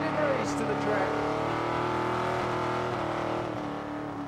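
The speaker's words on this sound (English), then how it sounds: "Big block Chevrolet powered Holden, yeah? Yeah, 600 brake horsepower there on it" Big block Chevrolet powered Holden of 600 brake horsepower doing a burnout, a loud, sustained roaring engine note at steady high revs with a commentator's voice talking over it.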